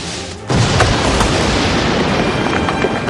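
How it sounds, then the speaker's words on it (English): A bridge is blown up, a sudden deep boom that swells into a loud, sustained rumbling roar and fills the whole stretch after a brief quieter lead-in. "You blew up the wrong bridge!"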